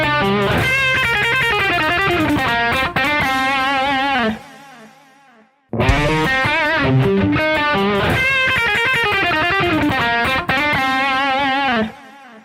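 Distorted electric guitar plays a fast alternate-picked shred lick of rapid notes, stops briefly, then repeats the run loud and close.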